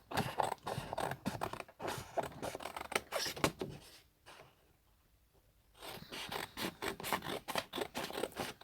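Scissors cut out a paper shape for a craft box with quick, crisp snips in bursts, one short pause mid-way, close and clear with no speech.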